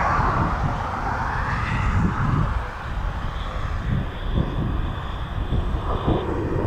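Ryanair airliner arriving at East Midlands Airport from Prestwick, its engines a steady broad roar at moderate distance with wind buffeting the microphone throughout.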